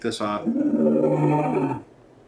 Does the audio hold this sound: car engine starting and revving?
no